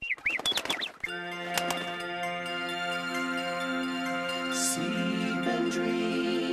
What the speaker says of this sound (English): I guess the lullaby birds will have the last words tonight.